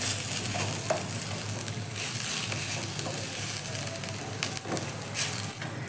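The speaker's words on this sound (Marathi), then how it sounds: "माझा काही मी बा लहान ग्रेटरने केलेलं आहे त्यामुळे लगेच फ्राय होणार आहे" Grated raw potato frying in a pan for a crispy potato snack, a steady close sizzle with occasional scraping stirs and no talk.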